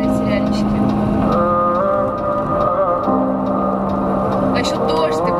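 Rain falls outside a country dacha, a steady broadband hiss running the whole time beneath loud music with a singing voice.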